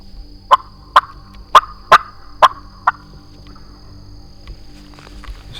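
A wild turkey in Florida gobbles in a rapid series of about six sharp, loud calls spaced roughly half a second apart, followed by quiet outdoor background with faint rustling.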